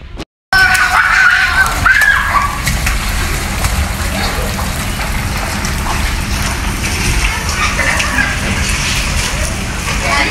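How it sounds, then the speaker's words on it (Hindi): Heavy rain pours steadily in a monsoon downpour under dark clouds, a dense continuous roar of water close to the microphone that runs the whole time, with a brief high whistling tone early on. "ये देखो बारिश,"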